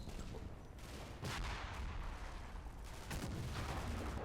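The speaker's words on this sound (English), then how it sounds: "something's taking pot shots at the Achilles" Battlefield gunfire in the Combat Mission: Battle for Normandy game aimed at an Achilles tank destroyer in the hedgerows, a dense, steady crackle of distant shots with heavier bursts swelling in throughout.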